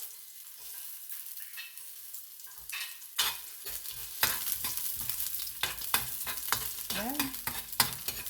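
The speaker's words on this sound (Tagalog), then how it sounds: "Brown natin ng kunti guys ang ating bawang para mabango." Garlic sautés in a pan for a coconut-milk vegetable dish, a steady close sizzle with frequent scraping stirs, and a brief spoken word near the start.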